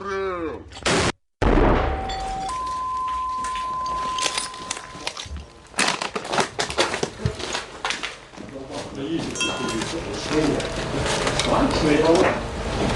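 A mortar fired by a crew of the 59th Brigade: one sharp, loud blast early on, then a lingering outdoor rumble with voices talking nearby.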